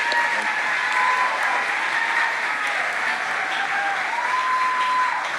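Steady applause from a debate audience for Tulsa mayoral candidates, broad and sustained throughout, with faint voices and a few tonal sounds mixed in beneath the clapping.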